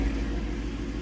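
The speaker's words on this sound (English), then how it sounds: "Put in reverse. Here's we're going to back off." A 2016 Ford Mustang GT idles low and steady while backing up in reverse off service ramps, giving a close, constant rumble with no other sounds over it.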